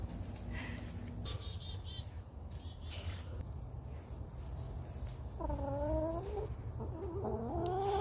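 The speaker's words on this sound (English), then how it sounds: "Time to check on the chickies." Backyard chickens settling in for bedtime give soft, scattered clucks and a few rising calls, close by over a steady low hum, with a short run of harmonic vocalizations near the end.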